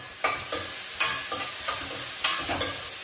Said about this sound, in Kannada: ಸೊ ಇವಾಗ ಈರುಳ್ಳಿ ಗೋಲ್ಡನ್ ಫ್ರೈ ಆಗೋದು ಫ್ರೈ ಮಾಡಿ